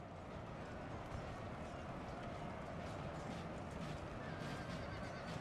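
Cavalry horses charge in the video game Napoleon: Total War, a dense, continuous rumble of galloping hooves with neighing mixed in, loud and steady throughout without pauses.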